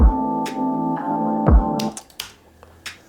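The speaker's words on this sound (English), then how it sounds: "This is a clap, but it's labeled switch." A clap sample in a hip-hop beat being mixed lands as several sharp, crisp hits over a booming kick and droning tonal bass. The claps are loud and close, with no talk.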